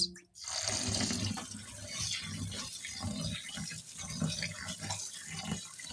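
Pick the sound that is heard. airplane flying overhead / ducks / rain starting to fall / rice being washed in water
rice being washed in water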